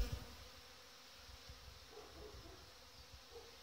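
Honeybees at a hive colony in an apiary make a faint, steady buzzing hum with a low background rumble.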